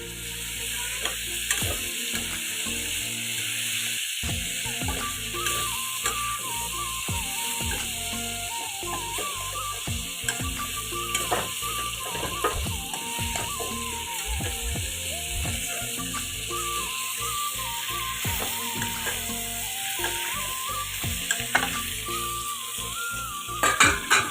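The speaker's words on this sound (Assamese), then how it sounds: "এতিয়া মই ইয়াত আলু, কোমোৰা আৰু নিমখ হালধি মছলা সকলোখিনি দি ইয়াক অলপ ভালদৰে ভাজি ল'ম ধুনীয়াকৈ।" Potatoes and pumpkin frying in a pan with salt, turmeric and masala, a steady continuous sizzle with repeated scraping stirs of a spatula against the pan throughout, close and even in level.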